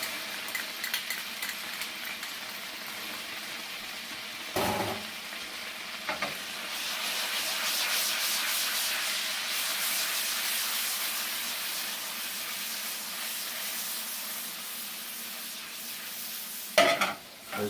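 Chopped garlic fries in butter in a pan, alongside seared scallops and lobster tail, a soft continuous sizzle broken by a few stirring scrapes and clatters.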